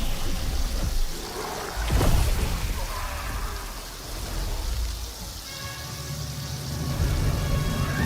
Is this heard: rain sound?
yes